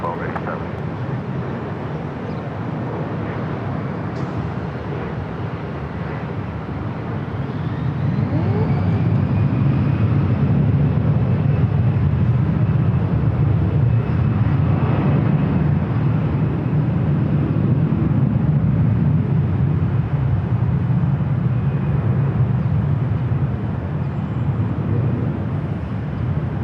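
Delta airliner taking off from runway 24 left at LAX, its jet engines swelling from a steady whine into a loud, sustained low roar as it accelerates down the runway, with radio voices talking over it.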